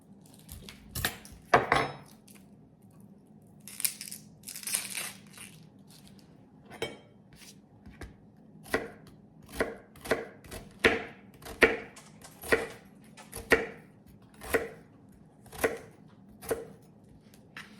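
Knife chopping half of a small sweet onion on a cutting board for cucumber salad, a steady series of sharp, close taps that quicken into an even rhythm toward the end, alone without talk.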